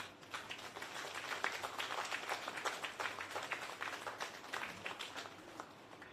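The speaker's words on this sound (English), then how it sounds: "a big round of applause, ladies and gentlemen, for all our beneficiaries here at Industry Cove Manor" Audience applause at a National Housing Trust handover ceremony for Industry Cove Manor, a steady, moderately distant patter of many hands that holds for several seconds with no talk over it.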